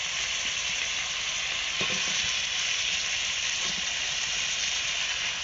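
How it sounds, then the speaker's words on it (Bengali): Cut cabbage and potatoes hit hot frying spice masala in a pan and sizzle loudly and continuously, with a few soft stirring scrapes over the steady hiss. "মশলা ঠিকঠাকভাবে কষানো হয়ে গেলে এবার দিয়ে দিচ্ছি কেটে রাখা বাঁধাকপি আর আলু"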